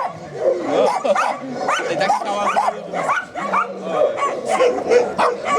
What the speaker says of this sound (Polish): A tu takie mniejsze pieski, ale jest tak głośno, że nie wiadomo, czy słychać w ogóle cokolwiek.